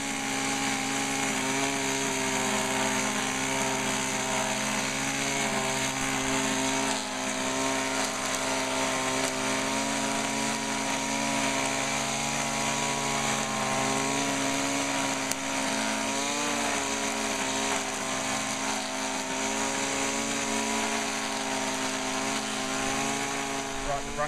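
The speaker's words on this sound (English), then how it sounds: "Brush cutting's done." Brush cutter trimming weeds on a synthetic golf green, a steady, loud two-stroke motor whine running continuously throughout with small shifts in pitch as it cuts.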